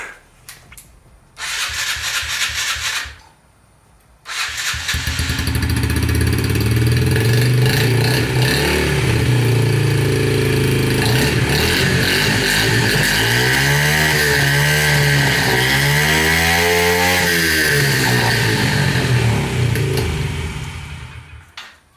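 A small motor vehicle engine starts after repairs: cranking bursts, then a loud, close, sustained running engine that revs up and down in waves before settling, with no talk.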